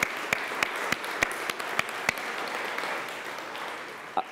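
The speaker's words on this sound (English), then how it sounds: "a huge round of applause for all of the people that worked on putting this together" A conference audience applauds the event's organisers, steady moderate clapping with several crisp, louder individual claps popping out of the even wash, gradually thinning toward the end.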